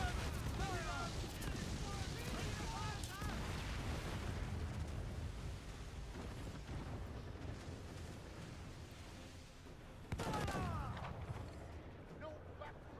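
Ship cannons boom repeatedly during a naval battle in Assassin's Creed Black Flag, dense explosive bursts stacked over a rumbling din, with a loud fresh volley near the end and a voice shouting over the action.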